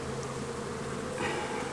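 A colony of honey bees hums and drones at an open hive, a steady buzzing swarm close by with no voices over it, swelling slightly near the end.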